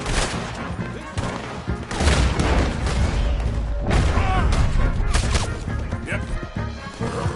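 Gunfire in Red Dead Redemption 2 as a shootout breaks out: dense, loud volleys of shots and crashing impacts run almost continuously, with voices shouting over the fight.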